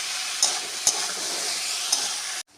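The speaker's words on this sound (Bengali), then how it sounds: "এটা ভালো করে একটু কষিয়ে নিতে হবে।" Raw tomatoes sauté in a hot pan for a fish curry, a steady close sizzle and hiss with a few sharp spatula knocks against the pan, ending abruptly.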